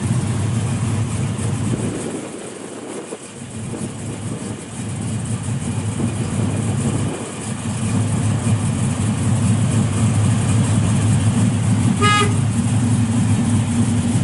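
A 1967 Chevrolet Chevelle SS 396 with a four-speed and an aggressive cam idles steadily, its deep, loud, lumpy rumble holding close for the whole stretch.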